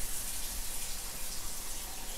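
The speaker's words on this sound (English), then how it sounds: "It's going right over to the sink and I'm putting water in it." Tap water runs steadily from a sink faucet into a candy pan, a continuous hissing, splashing stream heard close up and alone throughout.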